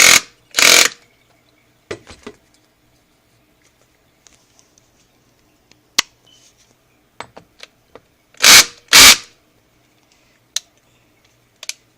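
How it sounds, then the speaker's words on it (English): A cordless drill driving into wood for a garden bed build gives short buzzing bursts in two pairs, near and loud, separated by scattered clicks and taps with near silence between. "it don't just spin, it torques, what I call a torque spin. That's when you hear that buzz right there."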